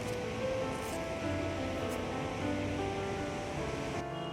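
A small, fast glacier-fed river rushing beside a roadside in Bhutan, a steady, loud broadband roar of water that stays constant throughout with no voices.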